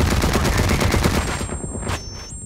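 Automatic gunfire in Blacklight: Retribution, a rapid, dense burst of shots lasting over a second, loud and close, then cutting off to a high electronic tone.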